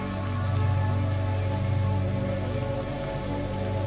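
Steady rain falls in a continuous, even hiss with a low hum underneath, unbroken and calm throughout.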